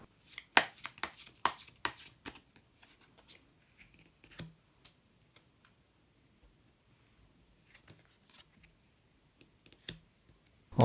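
A tarot card is drawn from the deck, giving a burst of crisp card clicks and snaps early on, then sparse light taps and rustles in a quiet room.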